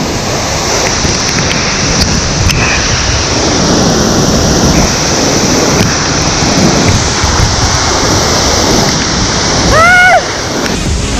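Tat Khamuet waterfall in Laos roars as a loud, continuous wash of rushing water throughout, with a brief chirping call near the end.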